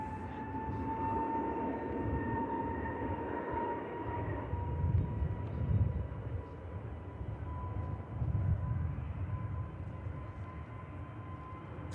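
A jet airliner at Manchester Airport produces a steady, fairly distant engine rumble that swells and fades gently, with a faint tonal whine running underneath and no voices.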